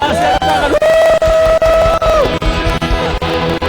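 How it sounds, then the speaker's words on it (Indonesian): A church congregation cheers and shouts praise during a Sunday service, loud crowd voices with whoops rising over sustained music and a singing tone, continuous and full throughout. "Sorak-sorai buat Allah kita ya."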